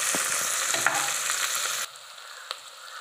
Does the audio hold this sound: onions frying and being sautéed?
yes